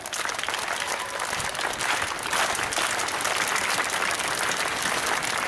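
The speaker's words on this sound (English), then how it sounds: "If you're with me, clap your hands, let's hear it." Crowd at a hunger-awareness rally at the Texas state capitol clapping their hands, a dense, loud, sustained burst of applause from many people with no talking over it.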